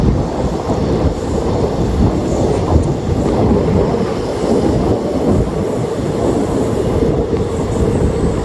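The Kottayam Express rolls along the rails between Nagercoil and Thiruvananthapuram, heard from on board. A loud, steady rumble of wheels and carriages runs throughout with faint clatter, and no voices.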